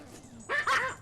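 Dogs guarding a home's front door give a short burst of close, loud barking with whimpering yips, coming after a quieter moment.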